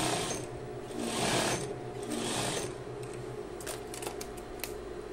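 A sewing machine stitches a hem on jeans in quick, loud whirring bursts that start and stop. A steady mechanical hum carries on underneath.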